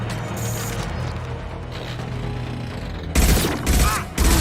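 Gunfire from the video game Mass Effect: a steady low rumble of game ambience gives way to several loud, close bursts of shots near the end, arriving in quick clusters.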